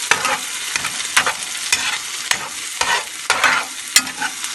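Whole garam masala spices sizzling in hot oil with ginger garlic paste, loud close frying with repeated sharp scraping stirs against the pan at an irregular rhythm, no voices.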